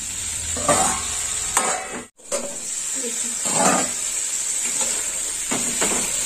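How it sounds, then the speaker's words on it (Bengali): Tomato paste and spices fry and are stirred in a pan, a constant close sizzle with repeated scraping strokes of the spoon and a brief lull midway. "আর টমেটো বাটাটা দেওয়ার পরেও আর একটু কষে নেব।"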